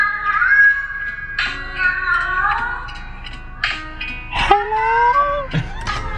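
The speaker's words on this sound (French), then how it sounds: "C'est un petit chat qui chante, trop cute." A small cat gives a series of long, wavering meows that sound almost like singing, loud and close, with pitch sliding up and down between short pauses.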